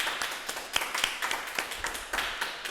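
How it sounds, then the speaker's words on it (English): A small group claps, scattered brisk applause at moderate volume with no voices over it. "can we just give a round of applause to our amazing participants?"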